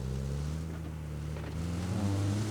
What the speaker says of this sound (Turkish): Araba geldi. Duydum.